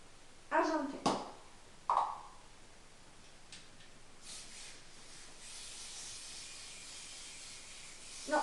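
Silver spray paint misted onto New Year's Eve table decorations, a soft, steady hiss that starts after a few brief voice sounds and continues for several seconds at close range.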